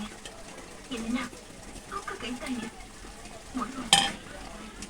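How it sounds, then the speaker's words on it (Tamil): Washed dried fish is stirred into a simmering Tamil-style karuvattu kuzhambu, giving soft sizzling and bubbling with scattered spoon scrapes and a brief sharp clink of utensil on pot near the end, fairly quiet. "இப்போ இது கூட வந்து நம்ம அலசி வச்ச கருவாடை சேர்த்துக்கலாம்"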